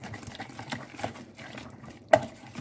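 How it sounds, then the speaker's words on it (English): Chicken soup powder is stirred into a small amount of water, giving soft liquid swishing and light clinks close up, with one sharper tap near the end and no talk. "just mix it out so the powder can dissolve in the water"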